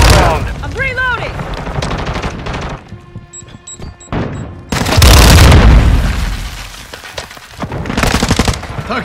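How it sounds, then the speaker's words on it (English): A Claymore mine blasts in Call of Duty: Modern Warfare II amid loud, busy combat: a sudden heavy boom with a sustained roar, plus gunfire, crashes and brief game voices. "Launching Claymore!"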